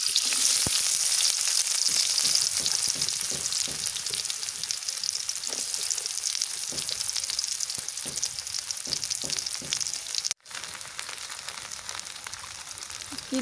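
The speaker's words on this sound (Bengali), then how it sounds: "তেল দিয়ে নিলাম সর্ষের তেল মিষ্টি কুমড়া রান্ধিবা হ্যাঁ ওই যে হ্যাঁ হ্যাঁ পেঁয়াজ কুচি দিলাম" Chopped onion frying in mustard oil, a loud, continuous close sizzle with scattered scraping stirs and taps, carrying on steadily with no talk.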